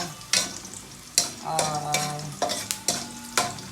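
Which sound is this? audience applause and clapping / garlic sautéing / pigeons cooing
garlic sautéing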